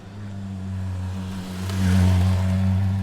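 Motorcycles pass along Andriyivskyy Descent, a cobbled street in Kyiv: a steady engine drone swells as they approach, then rises to a louder rumble near the end, with no speech.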